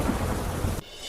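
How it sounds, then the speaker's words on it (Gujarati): Heavy downpour with thunder during a storm in Junagadh, a loud continuous roar of rain with low rumbling that cuts off abruptly near the end. "રાજકોટના જૂનાગઢમાં ધોધમાર વરસાદ"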